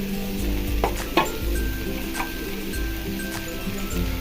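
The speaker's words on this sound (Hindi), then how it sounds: "यहाँ हमारे चिकन और वेजिटेबल्स अच्छे से फ्राई हो गए हैं।" Chicken and vegetables frying with chili flakes and cumin in a pan for a sandwich filling, a steady sizzle broken by a few clinks and scrapes of a spoon stirring.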